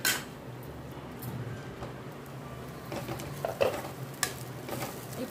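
French beans in coconut masala being stirred in a pan as they cook, with soft scraping strokes and a low, steady sizzle, fairly quiet and without talk.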